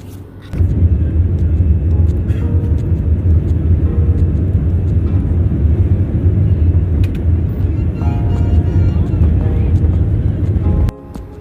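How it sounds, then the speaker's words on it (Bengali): Air India airplane taxiing and beginning its takeoff roll, a loud steady engine roar and low rumble filling the cabin throughout before cutting off abruptly near the end. "এবার আমাদের প্লেন রওনা দিয়েছে।"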